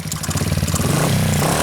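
A motorcycle engine revs loud and close, a throbbing, pulsing roar that rises in pitch and holds strong throughout.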